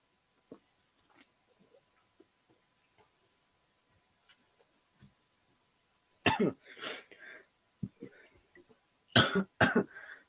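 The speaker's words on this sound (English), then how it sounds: "Every time on stream, I drink that, and I start coughing." Several harsh coughs in quick clusters, close to the microphone, after a stretch of near silence with faint clicks.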